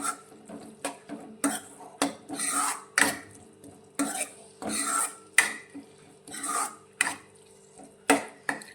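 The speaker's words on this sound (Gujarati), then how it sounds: "બધી જ વસ્તુને સારી રીતે મિક્સ કરીશું" A utensil scrapes and clatters against a pan in quick, uneven strokes as cabbage Manchurian ingredients and chili sauce are stirred, close and fairly loud.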